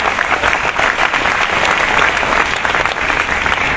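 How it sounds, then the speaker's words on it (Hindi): An audience claps loudly and continuously at an indoor event, dense applause filling the whole stretch without pause. "ताली तो बजा दीजिए सर की मेहनत की।"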